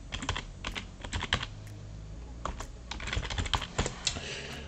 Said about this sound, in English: I'm still clicking and typing here